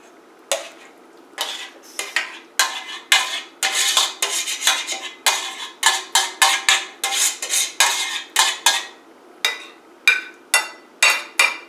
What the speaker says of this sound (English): I'm just gonna clean the plate.